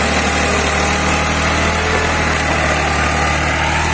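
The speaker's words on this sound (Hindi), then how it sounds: "ये ट्रैक्टर पूरा जोर लगा रहा है अपना, थोड़ा गिल्ला होने की वजह से ट्रैक्टर पे लोड पड़ रहा है।" A New Holland 5500 55 HP 4x4 tractor engine labours under heavy load while plowing wet ground, a loud, steady, dense engine drone filling the whole stretch with no talk.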